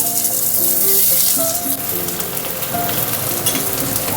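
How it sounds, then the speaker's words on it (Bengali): Finely chopped onion sizzles in hot oil for a bhindi dish, a steady crackling hiss that runs the whole time, with a soft tonal melody faintly underneath. "এবার পেঁয়াজটা দিয়ে একটু ভেজে নেব।"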